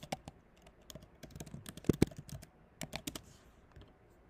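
Keys clatter on a computer keyboard as a student's name is typed, a quick irregular run of close, light clicks with a couple of louder presses and short pauses between bursts.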